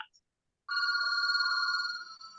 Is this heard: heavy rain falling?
no